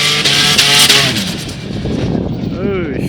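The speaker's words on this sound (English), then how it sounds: "Sounds like his clutch is slipping, eh?" Turbocharged Toyota Land Cruiser at a festival accelerating hard with a slipping clutch, its engine revving high and loud while the road speed lags, and a rising whine toward the end.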